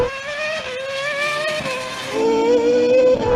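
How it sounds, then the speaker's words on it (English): A Red Bull Formula One race car approaches at speed, its high-pitched engine whine rising and falling through gear changes and growing louder as it nears. No voices accompany it. "I can hear the Formula One car."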